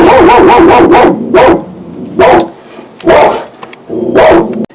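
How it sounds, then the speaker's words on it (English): A dog barks loudly and close by in five separate bursts of several rapid barks each, with short quiet gaps between them and no talk over the barking. "Sorry about the barking, guys."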